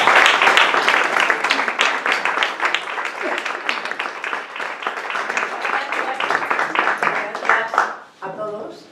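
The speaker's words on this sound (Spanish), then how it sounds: "Un fuerte aplauso para ella." Dense, steady applause from an audience at a Spanish-language poetry evening fills most of the stretch, tapering off near the end as a voice begins speaking.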